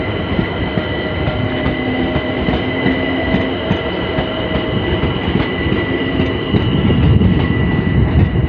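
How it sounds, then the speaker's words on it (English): A train rolls past at Clapham Junction on a busy main line, a steady, loud rumble of wheels and carriages with faint clickety-clack that swells slightly toward the end and continues without a break, with no talking. "And there goes that train to Stratford."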